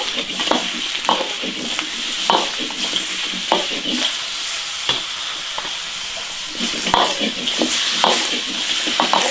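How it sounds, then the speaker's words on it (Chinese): Goose pieces stir-fry in an iron wok with a steady loud sizzle, punctuated by repeated scraping and clanking strokes of the spatula against the pan. "然后把洗干净的鹅下锅炒。先把鹅炒香，油温煸干。"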